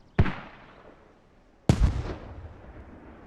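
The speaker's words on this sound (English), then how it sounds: "Silence the mortars." Mortar fire in the video game Squad during a competitive match on Logar Valley: two sharp, loud booming blasts about a second and a half apart, each trailing off into a long rumbling decay.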